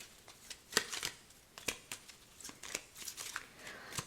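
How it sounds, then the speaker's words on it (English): A self-made tarot deck is shuffled by hand, giving soft, quick card riffles and flicks in irregular bursts, close and quiet with no talking. "So right now I'm shuffling this self-made deck that I made."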